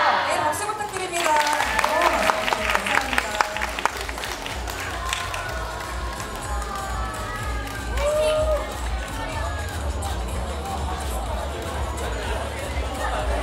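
A crowd at a live fan event in Korea claps and cheers through a noisy hall, the applause mixed with chatter, shouts and a low rumble, moderately loud and continuous rather than a clean ovation.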